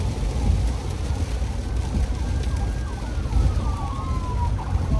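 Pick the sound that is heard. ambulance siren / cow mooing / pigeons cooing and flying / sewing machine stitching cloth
ambulance siren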